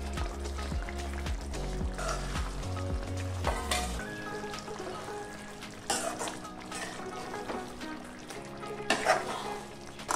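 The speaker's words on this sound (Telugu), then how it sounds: "ముక్క చిదమకుండా నిదానంగా కలుపుతూ ఈ మసాలాను కూడా ఫ్రై చేసుకోవాలి ఒక 5 నిమిషాలు" Softened chicken pieces fry with a ground pepper masala and are stirred slowly. Close, steady sizzling runs throughout under scraping spoon strokes, with a few louder clanks of the utensil against the pan.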